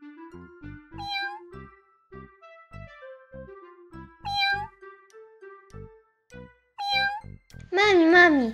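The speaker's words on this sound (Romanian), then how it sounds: "Pisica face miau!" A cat meows several times, short repeated calls over a light rhythmic tapping backdrop, ending with a louder, longer meow.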